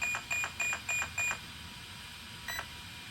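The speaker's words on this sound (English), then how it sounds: "3 beeps means that we're at level 3 on the punch." Electronic beeps from an Arrma Senton 3S 4x4 ESC in programming mode: a run of five short, evenly spaced tones, a pause of about a second, then one more, all clear and close.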